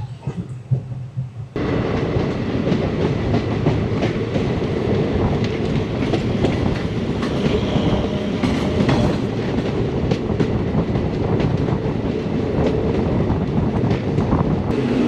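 A passenger train pulls out of Adra station in Purulia, with a steady, loud rumble of wheels and carriages plus clickety-clack and wind buffeting throughout, no talking.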